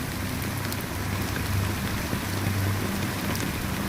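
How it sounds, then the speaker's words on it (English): Fine black rain drizzling in the video game Honkai Star Rail, a dense, even patter of drops with a low steady hum beneath, continuous and fairly close throughout. "Amidst the fine drizzle of black rain"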